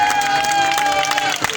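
A congregation at an evangelical crusade night cheers and applauds in a steady, dense wash of claps and voices, with sustained musical tones running underneath throughout.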